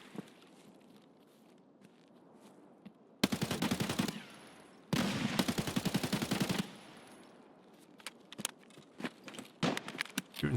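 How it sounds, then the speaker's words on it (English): Bursts of automatic rifle fire in Escape from Tarkov at the Shoreline resort, two long loud volleys of rapid shots followed by scattered single cracks and shuffling movement. "Shooting through a bush."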